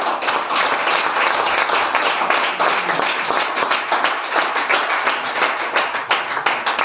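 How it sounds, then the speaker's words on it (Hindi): Dense audience clapping at an open business meeting in Hisar, steady and loud throughout with many overlapping hands and no pauses. "जब तक आपकी ताली नहीं बजेगी"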